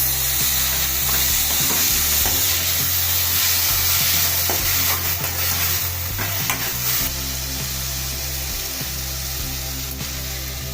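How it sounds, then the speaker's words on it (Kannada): Potatoes fry in oil over a low flame for a sabudana snack, giving a steady, loud sizzle with repeated stirring scrapes, and a low hum runs under it. "ಆಲೂಗಡ್ಡೆ ಎಲ್ಲ ಎಣ್ಣೆಲಿ ಚೆಂದಾಗಿ ಫ್ರೈ ಆಗಬೇಕು"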